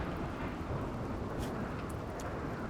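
Steady rain hisses over a low thunder rumble in the RimWorld video game, the broadband wash continuous and fairly faint throughout, with no voices over it.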